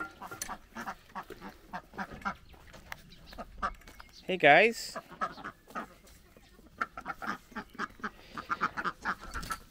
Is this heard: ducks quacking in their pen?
yes